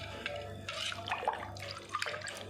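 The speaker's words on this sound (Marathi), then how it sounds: "मी चिंचेचं पाणी टाकून घेतले।" Tamarind water pours into a bowl with a soft, brief splashing trickle, fairly faint and heard alone.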